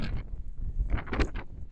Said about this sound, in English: So the wind is blowing like crazy.